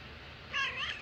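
A cat gives one short, clear meow at moderate volume over a faint background hiss.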